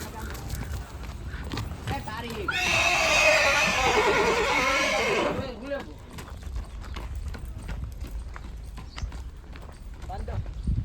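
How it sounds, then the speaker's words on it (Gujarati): A working horse in rural Gujarat neighs and its hooves clip-clop for a few seconds mid-clip, loud and close, with people talking before and after. "બાંધ્યો હવે ઘોડો થાકી ગયો."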